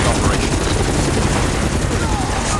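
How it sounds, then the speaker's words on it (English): A helicopter is attacked with sustained gunfire in a PS3 video game, giving a dense, loud and continuous roar of rotor noise and rapid shots with no pauses. "the helicopter. They did like super damage for us."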